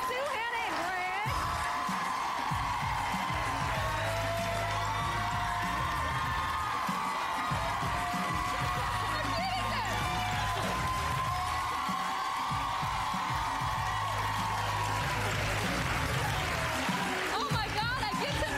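A television reunion show's studio audience cheering, whooping and applauding for surprise family guests, a sustained loud crowd roar with shouts and clapping throughout, with voices calling out over it.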